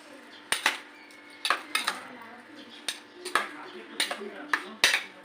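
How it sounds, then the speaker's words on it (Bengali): A spoon clinks and scrapes against a pot while cauliflower is stirred with raw mustard oil, a series of sharp metallic taps spaced irregularly over a quiet kitchen background. "কাঁচা সর্ষের তেল দিয়ে আমিও আমার চামচের সাহায্যে একটু ভালোভাবে নেড়ে চেড়ে নেব"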